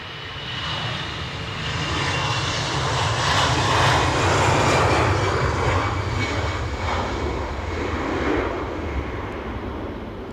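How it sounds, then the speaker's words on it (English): A Jet2 Airbus A321neo roars at Edinburgh Airport on a windy day, a steady broad engine rumble swelling and slowly easing as it passes at moderate distance, with no voices. "Is this that Jet2 A321neo?"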